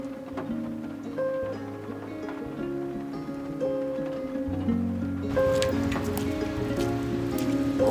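Steady rain patters on a surface while a soft melody plays underneath. Partway through, the rain grows louder and denser. No one speaks.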